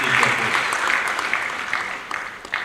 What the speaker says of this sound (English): A round of applause, sir, as you take your place.